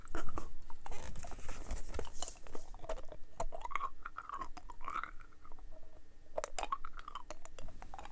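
Close, wet chewing sounds of Dubble Bubble bubble gum repeat in an irregular rhythm, with soft smacks and squelches from a mouth working gum.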